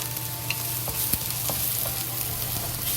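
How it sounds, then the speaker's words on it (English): Ginger, garlic and scallion sizzle steadily in hot oil in a home kitchen, a dense continuous crackle with a few sharp stirring clicks and scrapes scattered through, fairly close and alone. "When the oil is hot, we add the ginger, garlic, and the green onion scallion into it"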